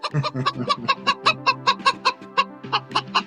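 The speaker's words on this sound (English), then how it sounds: "Or maybe a live chicken?" A live chicken clucks in a quick, steady series of short, close, clear clucks that run on without a break, with no talking.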